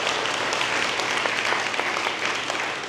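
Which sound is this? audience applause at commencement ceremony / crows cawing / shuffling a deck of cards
audience applause at commencement ceremony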